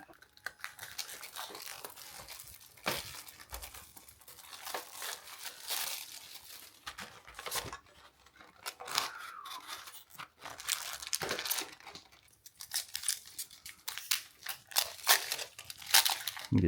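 Crinkling and tearing of a Pokémon TCG Phantasmal Flames booster pack's foil wrapper, a long run of close, uneven crackles and rustles with brief louder bursts as the pack is pulled open.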